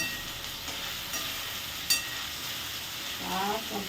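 Ginger and cumin fry in a pan, a steady close hiss and sizzle with a brief clack of stirring midway and a voice speaking faintly near the end.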